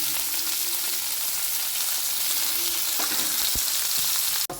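Onions, green chillies and curry leaves sizzle steadily in a hot pan, a dense continuous frying hiss with a few soft clinks of stirring near the end, no voices.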